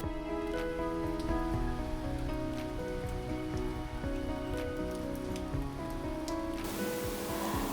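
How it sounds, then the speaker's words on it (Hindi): Steady rain falls on a rainy day in Canada. It gives a dense, continuous patter that holds at an even level for several seconds, with a tonal hum underneath and no talking. "तो खैर आप भी जब तक थोड़ी बहुत बारिश देखें।"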